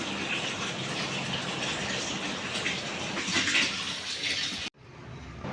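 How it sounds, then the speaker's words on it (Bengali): Hot water is poured into a pot of cooking meat curry, a steady, close gushing pour that stops sharply near the end. "এখানে গরম জল দিয়ে দিচ্ছি, একদম আজকে একটু মাখা মাখা করে বানাবো।"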